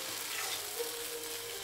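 Oil sizzles on a hot tava while paratha is being cooked, a steady soft hiss heard close up with no talking.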